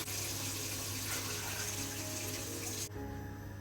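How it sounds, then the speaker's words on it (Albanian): Roughly one and a half liters of water pour into a pot of fried lamb, a steady close gushing rush that cuts off sharply near the end, with no voices. "do t'i hedhim rreth 1 litër e gjysmë ujë"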